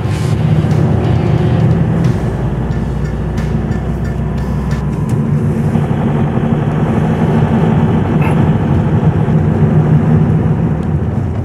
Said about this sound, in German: wir fahren jetzt hier erstmal über eine Kopfsteinpflasterstraße